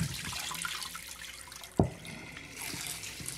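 Water pours steadily from a kitchen tap onto raw chicken in a bowl, a continuous rushing flow with one sharp knock partway through.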